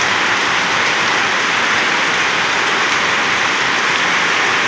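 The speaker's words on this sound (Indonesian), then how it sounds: "tapi malah posisinya hujan ya" Steady rain falls in the evening while people shelter at a church in Genuk, a dense, continuous hiss with no gaps and nobody speaking.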